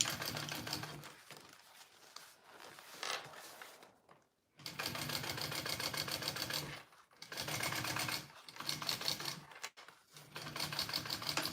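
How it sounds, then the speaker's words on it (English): A sewing machine top stitching a bowler bag runs in several loud, steady bursts of rapid stitching, with brief pauses between runs and no talking. "I want to top stitch this side, and then I will baste my edges of this base piece down"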